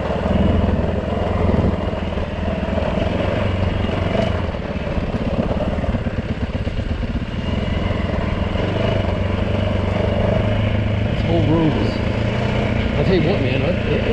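Yamaha WR450 dirt bike descending a steep downhill trail in low gear, a continuous close buzzing engine note with a fairly steady rumble, with wind noise and scattered rattles.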